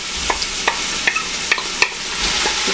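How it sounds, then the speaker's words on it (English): Onions sizzling in hot olive oil in a pan, with a handful of light scraping clicks from stirring over a steady soft fry. "I'm going to go ahead and put the onions in and just give them a stir"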